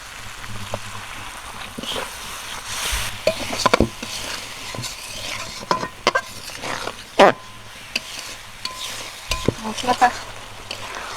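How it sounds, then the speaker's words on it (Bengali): Spice masala with a little water, salt and turmeric being stirred and fried in a pan for mutton curry, a low sizzle under intermittent scraping spatula strokes and clanks against the pan. "সামান্য একটু জল দিয়ে মশলাটা কষিয়ে নেবো"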